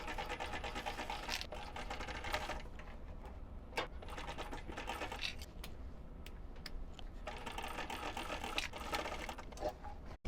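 A sewing machine stitches a seam on a pouch, its needle chattering in fast bursts broken by short pauses, close and fairly quiet with no talk over it.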